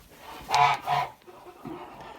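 Kholmogory geese, about four to five months old, let out two loud nasal honks close by, followed by softer, lower calls from the flock.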